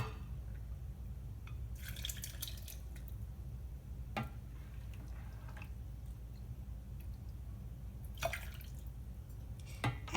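A ladle scoops onions and broth from a pot of butternut squash soup, giving a few soft wet squishes and drips in short bursts close by against a quiet kitchen hum.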